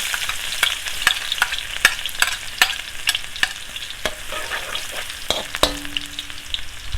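Garlic hitting hot cooking oil in a pan, crackling and sizzling sharply with rapid irregular pops and a few spoon scrapes, close and alone without voices.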